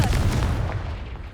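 A Confringo fire spell from Hogwarts Legacy detonates as a loud, close blast, then settles into a deep rumbling roar that slowly fades over about a second and a half.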